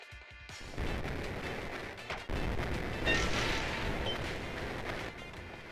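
Grenade blasts in a deathmatch video game roll out as a dense, continuous roar of explosions and crashing debris, loud and sustained for several seconds with no voices over it.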